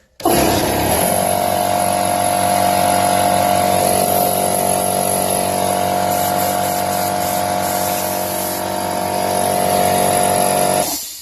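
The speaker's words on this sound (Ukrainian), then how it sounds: "Оце нормальна робота компресора." A home air compressor runs continuously and loudly with a steady motor hum and a high whine, starting abruptly and holding constant for about ten seconds before cutting off.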